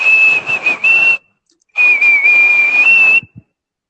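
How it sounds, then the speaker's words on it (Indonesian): A person whistles a steady, sustained tune in two long phrases separated by a short pause, close and clear with no talking. "Ini siul buat abang kandung."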